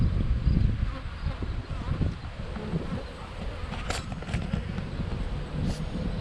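Honey bees buzz in a steady, dense drone around an open hive during an inspection, close and continuous, with a few brief higher whines as individual bees pass near.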